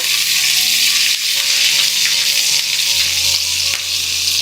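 Crushed garlic, ginger and chopped green chili frying in hot oil, a bright steady sizzle heard up close with light stirring and a low hum underneath.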